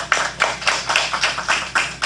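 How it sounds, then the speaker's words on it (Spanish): Rhythmic clapping for Dr. Silvia Ortega at a political leadership workshop for women, a few close hands beating in an even, steady pulse of about four claps per second, with no voices. "Demos un fuerte aplauso a la doctora Silvia Ortega, por favor."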